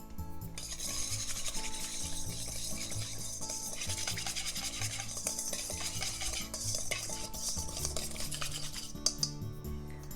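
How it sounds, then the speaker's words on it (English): A utensil stirs a dressing of ponzu sauce, sesame oil, sugar and sesame seeds in a large bowl, a soft continuous scraping and swishing close by, steady throughout with no voices. "sesame oil, sugar, sesame seeds, all in a large bowl, and just give it a mix"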